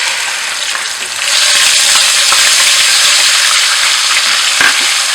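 Cumin seeds and ginger garlic paste hit hot oil with a loud, close hiss that swells after a quieter first second, crackling steadily with occasional stirring sounds.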